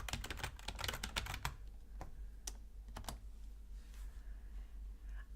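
Fingers type a rapid burst of clacking keystrokes on a computer keyboard, then slow to a few isolated key presses, close and clear over a low hum.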